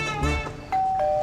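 A two-tone ding-dong doorbell in an apartment building rings once, the second tone held clearly over faint room noise, with no talk.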